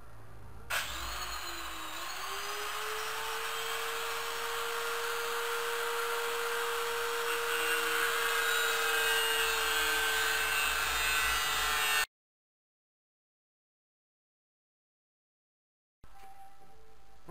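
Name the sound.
angle grinder cutting metal while repairing Lifan 125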